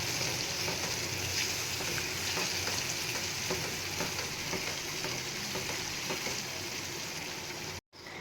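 Finely cut paneer being stirred through gravy in a pan, a steady hiss and bubbling with soft scraping under it, close and continuous, then a brief drop out near the end.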